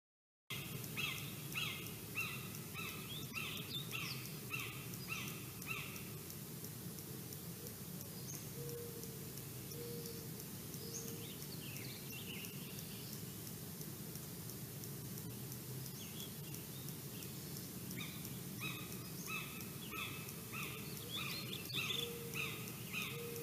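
Field soundscape with repeated chirping bird calls in short series, at a moderate distance over a constant low background hum and hiss, fading away in the middle and returning near the end.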